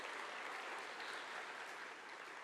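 Audience applause at a World Parkinson Congress 2023 conference talk: a dense, steady wash of many hands clapping, loud and sustained for the whole stretch with no voices over it.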